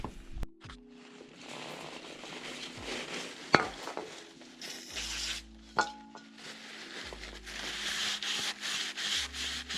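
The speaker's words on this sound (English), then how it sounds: "Do not forget to clean the flywheel, because otherwise it will not be such a good grip. So I will use some brake clean here." A car flywheel from a Volvo 740 clutch and gearbox job is cleaned with brake cleaner, producing close, uneven rubbing and scrubbing strokes broken by a few sharp metallic clinks and taps.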